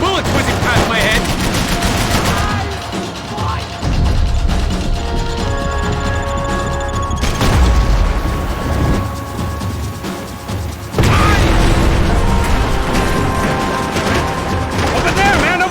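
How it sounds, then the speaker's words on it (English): Gunfire in the shooter game Max Payne 3: rapid, loud automatic bursts and sharp shots rattle continuously, with bullets whizzing past, close and dense throughout. "Bullets whizzing past my head"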